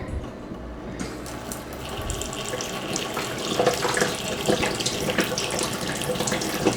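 Water streams steadily from a kitchen mixer tap under a sink, a continuous broadband rush that grows slightly louder and more turbulent partway through, with no voices.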